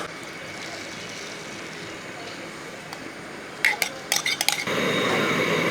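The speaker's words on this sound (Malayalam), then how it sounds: "മുട്ട അടിച്ച് വെച്ചിരിക്കുന്നത് അങ്ങോട്ട് ഇട്ട് കൊടുക്കുക." Beaten egg goes into a pan with coconut oil: a few sharp clinks of utensil against the pan, then a steady, close sizzle as the egg hits the hot oil.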